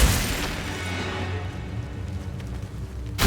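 A Confringo fire-blast spell explodes in the Hogwarts Legacy video game, opening with a loud close boom that rolls off into a rumbling decay, with another burst as it ends.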